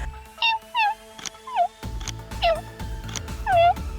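A person imitates a crying, whining dog with a run of high, sliding whimpers in short separate bursts, each bending downward, over light background noise.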